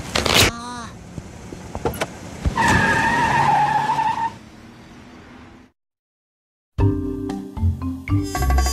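In a cartoon a car peels away with a loud tire skid and a revving engine that falls off to a lower drone, then cuts to silence before other sounds return.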